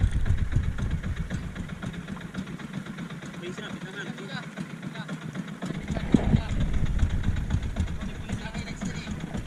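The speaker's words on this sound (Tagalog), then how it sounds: "Binuksan na yung makina para habulin yung ano." A fishing boat engine out on a jigging trip runs with a low, rumbling mechanical drone, moderately faint and continuous beneath people talking.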